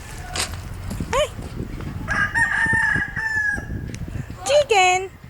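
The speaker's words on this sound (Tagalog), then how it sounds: "we have chickens." Rooster crowing with hens clucking around it: a long strained crow in the middle, then a second crow near the end, with short clucks and cackles between, close by and loud.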